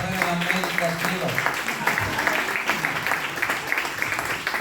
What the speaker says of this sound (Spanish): Dale un fuerte aplauso al Señor con todo tu corazón